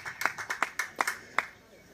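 A handful of sharp, evenly spaced claps ring out at an outdoor museum barbecue, about seven distinct slaps in a quick steady rhythm, fairly faint and fading out as someone speaks nearby.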